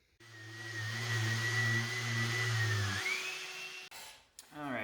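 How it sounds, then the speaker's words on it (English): A power sander whines steadily as it sands epoxy off hardwood floor boards, running for about three seconds before spinning down, followed by short rustling noises. "I'm going to go along and sand off these 3 boards once more"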